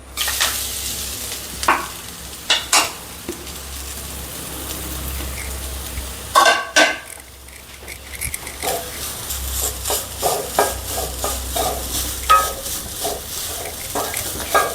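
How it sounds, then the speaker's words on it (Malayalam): Grated coconut roasts in a pan in a Kerala home kitchen, giving a continuous soft sizzle broken by sharp scraping strokes of a spatula at irregular intervals, close by and without talk. "തേങ്ങ വറക്കാൻ പോവാണ് കേട്ടോ."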